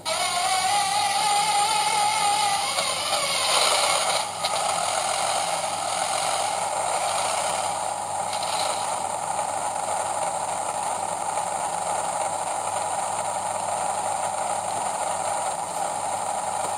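A Bachmann Class 37 model locomotive with a TTS sound decoder and iPhone speaker plays a steady diesel engine drone with mechanical rattling and a rising whine at the start, continuous and fairly loud throughout.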